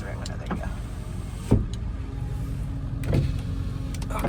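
Power windows on a 1999 Ford F250 7.3 Powerstroke diesel pickup whir up and down in short motor runs, with clunks at the stops, close by under a steady background hum.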